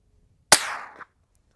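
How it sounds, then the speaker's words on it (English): A Ruger Mk3 .22LR pistol firing supersonic rounds through a Dead Air Mask suppressor lets off one sharp, close crack with a short decaying tail, isolated in silence. "we've got the Ruger Mk3 shooting supersonic rounds through it"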